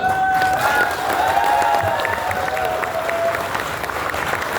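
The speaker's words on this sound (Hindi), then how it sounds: "मतलब सोच के लिए तालियां बजा दो यार" An audience applauds steadily at a business talk on the future of MNT, the broadband clapping loud and continuous throughout, with a faint whistle-like tone and some crowd noise mixed in.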